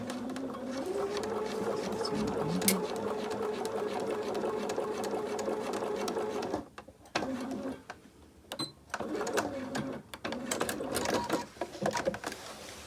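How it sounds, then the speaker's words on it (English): Sewing machine edge stitching close along a fabric pocket on a pair of trousers, running in a steady, rapid mechanical whir for several seconds, then stopping and restarting in short bursts with brief pauses between. "I really like like using the edge stitch for that even sewing."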